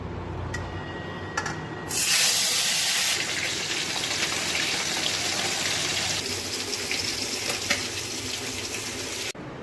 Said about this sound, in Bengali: তো চলো বন্ধুরা মাছ ভেজে নিই